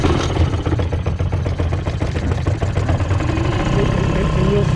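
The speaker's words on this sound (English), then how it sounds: "So the next thing for me is fire up the main engine here." A sailboat's main engine, a small 2-horsepower motor, running at a steady idle, loud and close with an even low rumble throughout.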